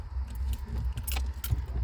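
Keys for a 1990 Volkswagen Golf GL jangle close by in several quick metallic bursts over a low, steady rumble, with no voices.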